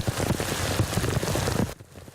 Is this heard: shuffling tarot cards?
no